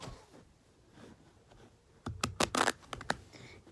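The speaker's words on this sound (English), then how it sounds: "now I'm just going to give it a nice shuffle" After a quiet start, playing cards are shuffled in a quick burst of crisp, snapping flutters, close up.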